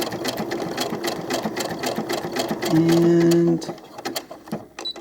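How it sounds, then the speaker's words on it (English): A sewing machine stitches fabric for doll clothes, its motor humming steadily throughout with a louder, faster burst of stitching near the end before stopping, with a brief spoken word. "Now I like to sew the same direction."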